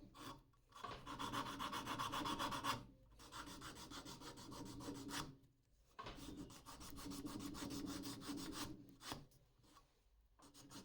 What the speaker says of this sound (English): I'll sand the rest of the lure as well to remove any rough spots.